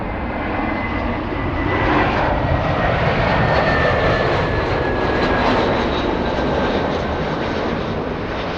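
A JetBlue jet airliner on the runway at LAX, its engines producing a loud, steady, broadband roar that holds close and constant throughout without talk.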